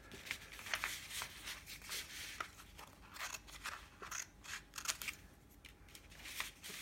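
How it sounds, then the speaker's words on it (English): Scissors snip through paper for a pyramid model, giving faint, close, irregular crisp cuts and rustles throughout. "I'm going to cut that down the middle"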